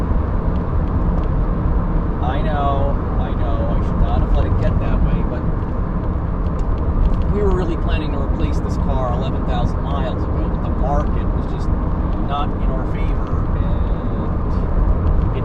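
Inside a moving Toyota Corolla, the tires make a loud, constant road roar that fills the clip, while a person talks over it.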